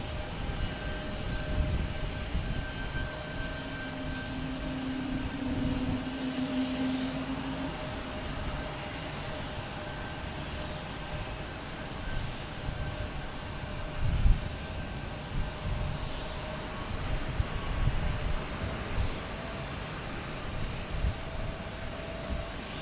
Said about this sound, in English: Another Alaska Airlines coming in from, what's this, coming from Portland?